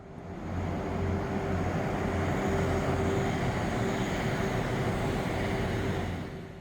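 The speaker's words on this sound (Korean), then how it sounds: "드디어 열차가 들어옵니다" Jeongseon Arirang train, recently revived with a new locomotive, rolls into Jecheon station's platform, a steady low rumble with a constant tonal hum that swells in, holds for several seconds, then fades slightly.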